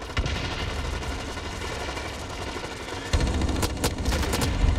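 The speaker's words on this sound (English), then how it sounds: "I hear lots of shooting." Sustained gunfire in the shooter game Blacklight Retribution, a dense, steady rattle of automatic fire that grows louder and punchier partway through, with sharp cracks toward the end.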